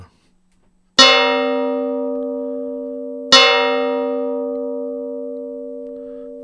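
A synthesized old cast bell, modeled on a real bell, is struck twice, each strike ringing out with a long, slowly fading hum and a slightly clashing, inharmonious overtone.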